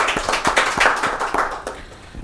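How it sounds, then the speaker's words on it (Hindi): An audience at a Rajasthan Parishad event honouring Ashok Doshi gives a short burst of applause. Separate hand claps stand out in a quick, slightly uneven rhythm, fairly close and moderately loud. "एक बार जोरदार तालियां हो जाए इनके लिए।"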